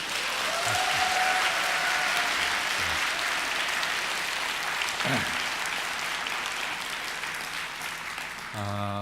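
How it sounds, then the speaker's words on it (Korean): A church congregation applauds, a sustained burst of dense clapping that fills the room at a steady level for the whole stretch, with faint voices mixed in. "자, 여러분이 할 수 있는 온 힘을 다해서 우리 박수와 환성으로 환영하도록 하겠습니다."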